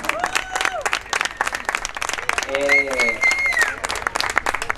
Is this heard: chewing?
no